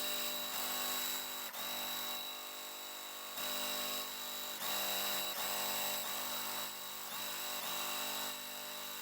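Sewing machine stitching across the corners of a basket quilt block, a steady close mechanical whir with brief stops and restarts, running alone without talk.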